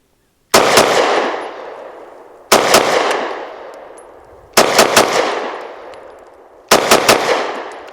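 A SAR9 SC Gen 3 pistol fired in quick doubles outdoors, four loud close pairs of sharp shots spaced about two seconds apart, each pair trailing off in a long echoing decay.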